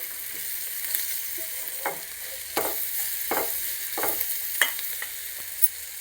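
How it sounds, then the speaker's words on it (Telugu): Onions fry in a pan for an egg and raw mango curry, a steady sizzle with a series of sharp scraping stirs spaced roughly every second, close and moderately loud with no voices. "ఇదిగోండి, ఉల్లిపాయలు వేగిపోయినాయండి."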